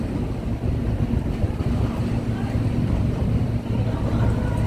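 A boat pulls away from the harbour side in Kowloon, Hong Kong, its steady low engine rumble blending with wind buffeting and the wash of water close by.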